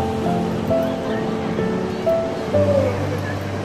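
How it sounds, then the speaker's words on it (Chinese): Winter sea waves wash onto a beach in Shenzhen with a broad, steady surf rumble. Wind buffets the microphone, and faint voices sit in the background. "冬天的大海"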